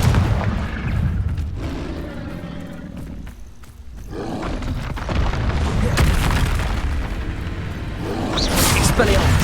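Confringo fire spell blasts exploding during a dragon battle in a wizarding video game, deep booming roars and rumbling bursts that swell and fade across several seconds, loud and close, with a voice heard faintly beneath.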